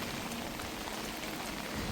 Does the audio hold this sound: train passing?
no